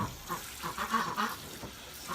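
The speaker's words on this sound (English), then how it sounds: "All of the ducks are just looking at me." Ducks on a farm quacking and honking in a short burst of several calls, moderately close over a faint background of running water.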